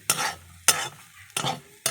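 A mixed vegetable fry is stirred in a pan as it finishes cooking, giving four quick scraping, sizzling strokes at an even rhythm, loud and close, with no talking.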